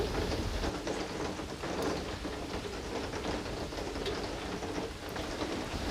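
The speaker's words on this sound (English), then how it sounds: "then it started raining pretty heavy" Steady heavy rain pours down in a continuous hiss outdoors during rifle-season deer hunting, with scattered drops hitting nearby surfaces.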